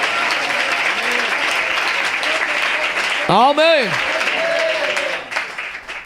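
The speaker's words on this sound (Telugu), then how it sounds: "గట్టిగా చప్పట్లు కొట్టేసి స్తోత్రం చెల్లిద్దాం." Steady applause from the congregation at a church meeting, a continuous close wash of clapping throughout, with a voice calling out briefly over it midway.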